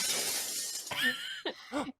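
Glass shatters in a tabletop game show, a sharp bright crash with a trailing scatter of tinkling shards, followed by a couple of brief clinking fragments, close and fairly quiet.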